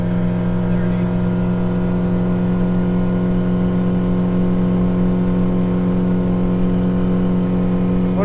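A Honda 90HP outboard motor pushing a 2021 Starcraft Starweld 17 Flex aluminum boat at full throttle, a loud, steady high-revving drone with strong sustained harmonics, close and unbroken throughout.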